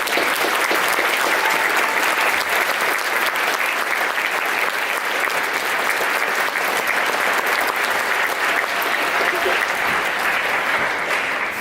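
An audience at a university band clinic gives sustained applause for the band directors, dense and steady clapping from a large crowd that lasts throughout, close and loud with no talking over it.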